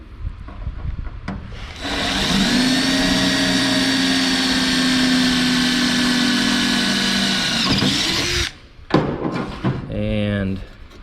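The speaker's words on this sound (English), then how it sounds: "I grind these edges just kind of lightly to find out where my spot weld is" An angle grinder lightly skims the panel edges of a 1967 Chevelle's hinge pillar to expose spot welds. It runs as one steady, loud whine for about six seconds, then cuts off, and someone talks briefly afterward.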